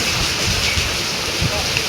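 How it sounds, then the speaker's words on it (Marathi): Heavy rain falls steadily on a forest road, a dense, even hiss with some wind buffeting the microphone, continuous and close throughout with no talking. "खूप जोरात पाऊस चालू आहे"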